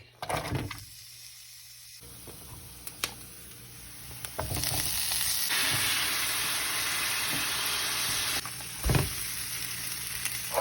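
Rice frying in a pan with onion, garlic, oil and sweet longanisa sausage, a loud continuous sizzle punctuated by several sharp stirring scrapes and clanks, swelling louder midway and tapering off near the end.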